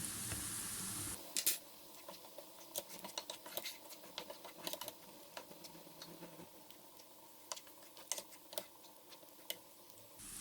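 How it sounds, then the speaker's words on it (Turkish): Onions sautéing in a pan for a potato flatbread filling with tomato paste, a soft steady sizzle sprinkled with faint ticking pops and light crackles, quiet and close throughout. "Soğanlarım yeterince sotelendi."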